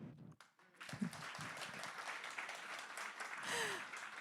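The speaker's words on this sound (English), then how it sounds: "Thank you for the warm applause." An audience at the launch of a climate exhibition on melting ice and sinking cities in Singapore gives a soft, distant round of applause after a brief spoken moment, with faint voices mixed into the clapping.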